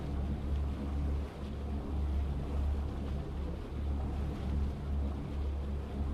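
A boat's engine in Farming Simulator 25 gives a steady, loud, low rumbling vibration that pulses slightly and continues throughout, with no talking.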